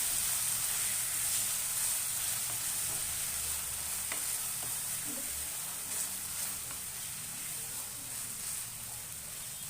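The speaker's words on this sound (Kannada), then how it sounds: "ಇದನ್ನು ಚೂರು ಎಣ್ಣೆ ಫ್ರೈ ಮಾಡ್ಕೊಳ್ಳೋಣ" Ground masala paste for chicken ghee roast frying in oil and ghee, giving a loud, continuous close-up sizzle and hiss with faint stirring noises throughout.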